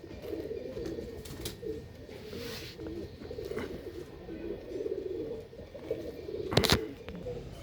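Pigeons in a breeding setup coo steadily in soft, overlapping low calls throughout, with a few brief sharp clicks and rustles near the end; no one speaks.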